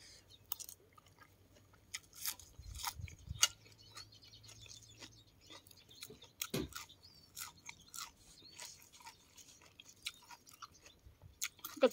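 Crunchy fried grasshoppers and wild garlic being chewed up close, with irregular crisp bites and soft mastication clicks over a quiet outdoor background among flowers.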